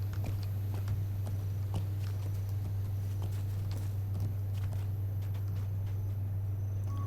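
Steady clip-clop of horse hooves walking at an even pace over a constant low hum, with faint insect-like chirping in the background.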